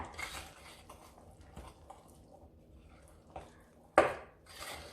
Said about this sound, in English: now just mix it like this until it's all mixed in with the flour and you have no dry spots